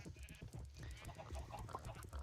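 Sheep in Minecraft bleat repeatedly in short, wavering calls that overlap into a faint, busy cluster from a small flock.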